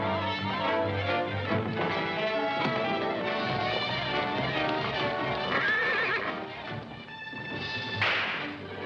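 Horses neigh and whinny loudly amid galloping hooves and whip cracks, with dramatic orchestral music playing throughout and a sharp burst near the end.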